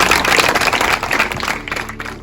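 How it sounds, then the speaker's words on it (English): Applause from a school assembly audience honouring two pupils, a dense patter of many hands clapping steadily and fairly loud, gradually thinning toward the end. "a round of applause for both of you"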